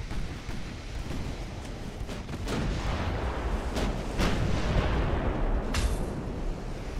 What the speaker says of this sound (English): everybody on the Narva is deaf after those guns just fired over top